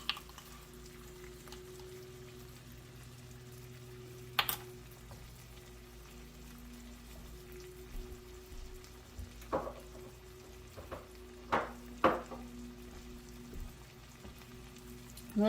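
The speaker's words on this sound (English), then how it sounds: "So we've let the butter melt and the onions kind of simmer for a good 2 to 3 minutes." Minced garlic and onions simmer in melted butter in a pan, a quiet, steady sizzle and light crackle with a few sharper pops and clicks scattered through.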